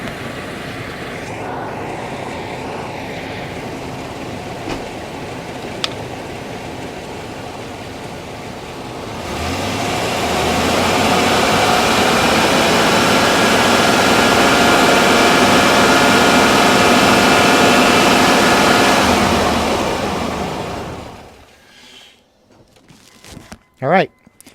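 A GM OBS Chevrolet truck engine cranks to life and settles into a steady, loud idle for about ten seconds before shutting off, with quieter shuffling beforehand; the truck has a flickering battery light and is having its alternator replaced.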